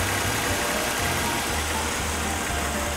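Mercedes-Benz S350 engine idling, heard close up from the engine room, a steady, smooth hum with a low rhythmic pulse and no talking.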